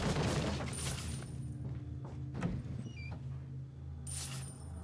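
Gunshots ring out in Resident Evil 4 as medallions are shot, a few sharp cracks spaced apart over low game ambience, with metallic pings in between and no talking.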